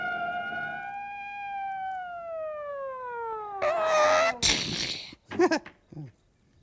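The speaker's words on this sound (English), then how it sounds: "I want to pull up that police car footage." A police car siren from old film footage wails in a single long tone that slowly falls in pitch, followed by brief loud bursts of other noise and voices.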